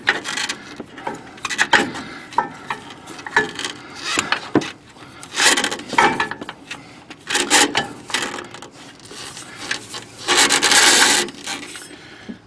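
Wrench work on a nut of an old truck, heard as uneven bursts of metallic scraping, ratcheting and rubbing close by, with short pauses between efforts and no talking.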